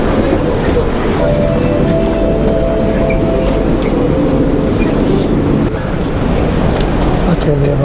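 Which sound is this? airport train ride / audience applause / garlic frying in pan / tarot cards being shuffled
airport train ride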